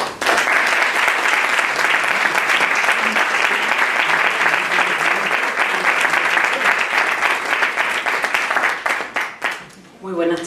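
Audience at a flamenco congress breaks into strong, sustained applause, dense clapping filling the hall before tapering off at the end.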